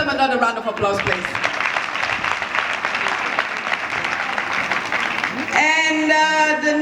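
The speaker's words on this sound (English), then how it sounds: "Let's give them another round of applause" At a skills academy graduation ceremony, the crowd gives the speakers a sustained round of applause that fills the room for several seconds. A voice speaks briefly at the start, and speech resumes at the end.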